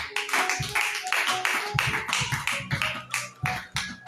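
A church congregation claps along during a French-language prayer service. The crisp hand claps come in quick rhythmic bursts with short gaps, sounding near and lively, and no voices talk over them.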